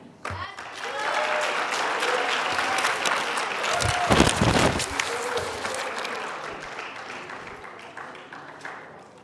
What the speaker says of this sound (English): I would just love for you guys to give a round of applause to both of our speakers